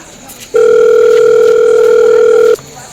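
A steady telephone dial tone sounds loud and close as a call is placed, holding unbroken for about two seconds before cutting off, with faint background noise on either side.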